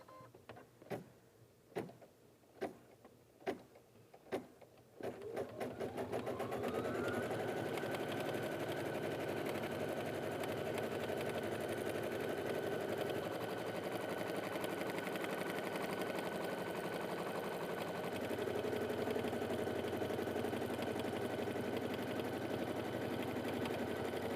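An embroidery machine stitches an in-the-hoop fabric gift bag, first with a handful of separate clacking needle strokes, then settling into a loud, continuous whirring hum of rapid stitching.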